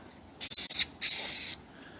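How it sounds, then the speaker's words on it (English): WD-40 aerosol can sprayed into the engine cylinders before honing, two close, sharp hissing bursts of about half a second each with a brief gap between them. "Give her a little shot of WD and go to honing."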